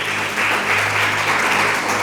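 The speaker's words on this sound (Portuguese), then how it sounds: "dê a melhor salva de palmas que você possa dar para Jesus" Church congregation clapping together in steady, dense applause that fills the room, continuous and fairly loud throughout with a low hum beneath and no talking.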